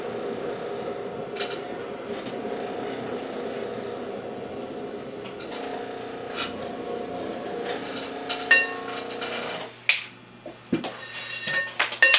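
A wooden paddle pats thrown clay to add texture to a bottle and cup, with soft slaps that cluster toward the end over a steady background hum.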